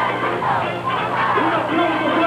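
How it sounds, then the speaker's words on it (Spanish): A vast crowd of some two million people cheers for Pope John Paul II at San Juan de los Lagos, a loud, unbroken roar of massed voices and babble. "Yo nunca había presenciado una porra de 2 millones de gargantas emocionadas"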